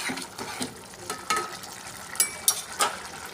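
A spoon stirs boiled cucumber and shrimp curry in a pan, giving several scraping, clinking strokes over a soft sizzle, with sharper metallic taps toward the end.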